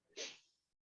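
A single sharp sneeze bursts out nearby, quick and breathy, then trails off into silence.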